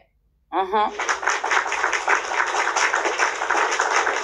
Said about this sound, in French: Attends, j'applaudis pour ça.